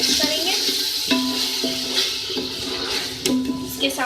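Crushed red chilli sizzles in hot oil with ginger and garlic in a pan while a spoon stirs and scrapes the metal. The frying hiss is steady and close, broken by short ringing scrapes.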